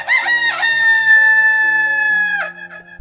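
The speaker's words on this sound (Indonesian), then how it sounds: "membangunkan ayam jantan agar berkokok lebih awal" A rooster crows loudly and close, one long sustained cock-a-doodle-doo call with a wavering start and a tapering finish, alone with no talk.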